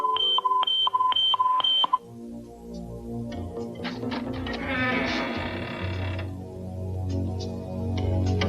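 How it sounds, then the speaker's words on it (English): A smoke alarm beeps in a rapid regular series of about five sharp, loud electronic pulses, then stops and gives way to clattering mechanical noises and a low hum. "You set the smoke alarm on."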